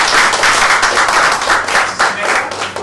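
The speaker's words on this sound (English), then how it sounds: "Please join me in welcoming him with a big round of applause" Loud, dense applause from an audience at a Friday evening corporate talk, many hands clapping together in a sustained, close roar that swells slightly in waves without any speech.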